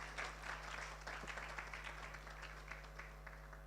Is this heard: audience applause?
yes